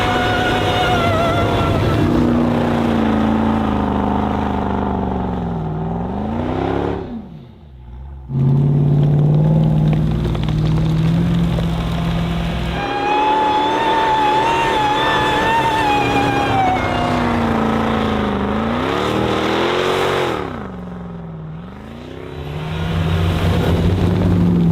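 A tracked Jeep ploughs through deep snow in the woods, its engine loud and close with long rising and falling revs, briefly dropping off before surging again.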